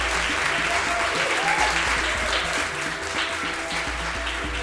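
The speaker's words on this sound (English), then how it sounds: "give these guys a big round of applause" An audience applauds panelists at a travel content creation event, steady broadband clapping sustained throughout alongside a low rhythmic music bed.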